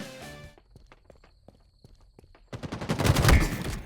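Paintball gunfire and footsteps in the Halo Infinite Forge map Paintball Hedge Maze: sparse, quiet footsteps and soft shots at first, then a loud, dense burst of rapid paintball fire in the last second and a half.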